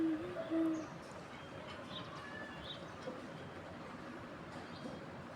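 Pigeons outdoors on a rainy day, with low cooing or hooting calls near the start over a steady wash of rain and ambient noise, fainter calls scattered afterward.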